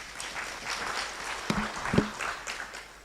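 An audience claps for panelists being welcomed on stage at a conference side event, steady, fairly distant applause with a couple of sharper knocks partway through.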